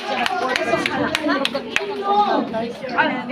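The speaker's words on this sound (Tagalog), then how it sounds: "Palakpak!" Scattered hand clapping from a church group gathering, sharp individual claps standing out over lively chatter and talking voices nearby.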